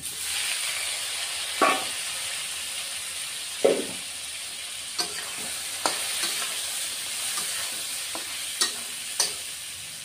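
Fried potatoes go into a sizzling pan of Bengali rui fish curry, giving a steady bright hiss of frying with a few scattered clicks and stirring knocks, close and continuous.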